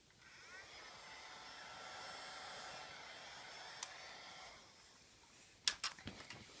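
A small toy hairdryer whirs with a thin, steady electric whine for several seconds, then cuts off, followed by a few faint clicks and knocks nearby.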